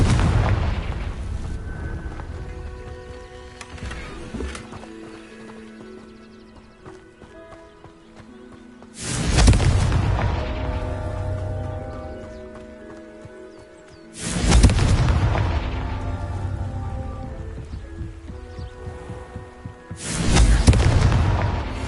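Confringo blasting spell explosions in Hogwarts Legacy: three heavy booming blasts land several seconds apart, each with a sharp onset and a long rumbling decay, over a quieter background of clattering game sounds and no speech.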